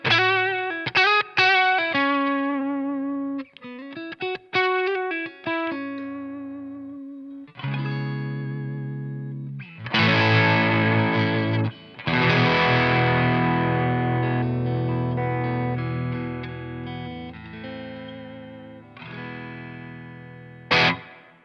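Electric guitar runs through an Ibanez TS808 Tube Screamer with its overdrive turned all the way down, the amp still breaking up; short picked notes and riffs give way to ringing, crunchy sustained chords, played alone and loud.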